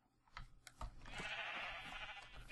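Sheep on a purple sheep farm in Minecraft bleat in a drawn-out, wavering cry that rises after a few soft clicks and holds steady at moderate, close range.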